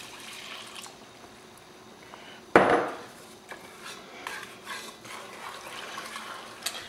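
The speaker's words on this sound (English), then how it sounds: "We're going to go ahead and stir in our milk." Whole milk poured and stirred into a flour roux in a pot for mac and cheese: a sudden loud splash, then soft scraping and sloshing of the spoon continuing quietly.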